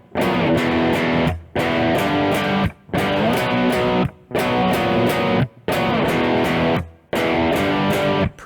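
An electric guitar plays the bridge of a song as distorted power chords. Dense strummed bursts come in a steady rhythm, each broken by a brief gap.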